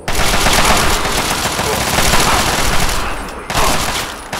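Sustained Kalashnikov automatic gunfire in the video game Fallout 3, loud and close, with rapid bursts running almost continuously and a brief pause before firing resumes.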